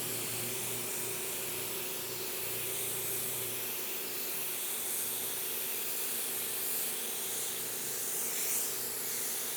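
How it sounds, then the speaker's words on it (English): 2K primer sprayed over a repaired area of a car body, heard as a steady, loud, continuous hiss that runs unbroken for the whole stretch with no talking. "we're gonna spray our 2K primer over our repair area."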